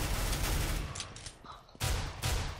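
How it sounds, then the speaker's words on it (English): Pistol fire in Counter-Strike: Global Offensive, loud cracking shots in a dense burst for almost a second, a quieter gap, then another burst of gunfire near the end. "Pull out my pistol again, shoot a tad."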